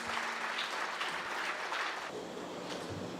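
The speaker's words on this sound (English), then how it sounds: "Please, a resounding round of applause." Sustained audience applause at a presidential and business executives summit in Kwahu, Ghana, welcoming the President of Ghana, a steady dense wash of clapping that holds at an even level throughout with no voices over it.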